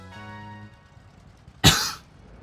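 A single sharp cough bursts out near the mic after a stretch of quiet, brief and loud, with a faint tonal hum underneath before it.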